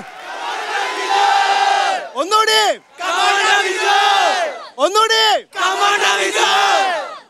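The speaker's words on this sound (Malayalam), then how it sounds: "വലിയൊരു ആരവത്തിന്റെ നടുവിലാണ് ഇപ്പൊ നമ്മൾ നിൽക്കുന്നത്" A large crowd of Idukki locals at an outdoor TV game show roars in loud, sustained chanted bursts, with brief pauses where a single voice urges them on before the next swell.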